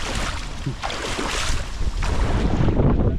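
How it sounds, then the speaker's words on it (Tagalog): Strong, cold wind by a river in Taiwan roars and buffets the microphone continuously, with a broad rushing sound swelling in gusts and no voices. "Lakas ng hangin."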